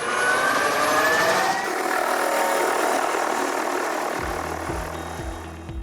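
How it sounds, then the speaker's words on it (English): An agricultural drone spraying fertilizer over a tea plantation gives a loud, steady, close whine of engine and rotors that slowly fades, with no talk. "apply fertilizer using drones"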